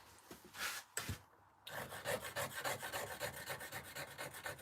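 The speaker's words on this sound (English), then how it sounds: "Sharpen that chisel." A stone carving chisel is sharpened with quiet rhythmic rasping strokes, a few short scrapes followed by a steady run of repeated rubbing passes, close and fairly soft.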